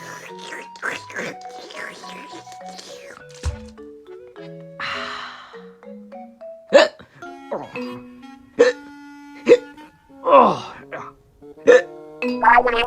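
A cartoon character hiccups repeatedly in sharp, evenly spaced bursts over playful background music, with voices talking earlier in the scene.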